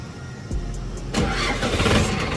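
A diesel car wrongly filled with petrol cranks and catches, then runs with a rough, loud, tractor-like rumble close by, with no talk.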